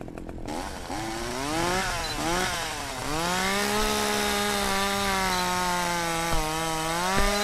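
A chainsaw in the horror video game Curse Digicam revs up and then holds a loud, buzzing motor whine that rises and falls slightly in pitch, close and continuous for several seconds.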